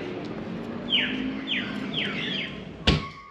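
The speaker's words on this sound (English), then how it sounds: "The birds, they are noisy." A bird gives three quick descending chirps spaced evenly apart, followed by a sharp tap, against a quiet outdoor background.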